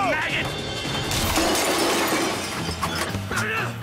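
Bone china teacups, porcelain figurines and depression glass smashing in a loud crash, a burst of shattering with tinkling shards spilling over several seconds.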